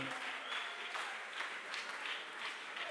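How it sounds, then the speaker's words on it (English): A choir concert audience in Tema, Ghana, claps steadily, a dense and even wash of applause that continues throughout without pause. "Let's clap for them."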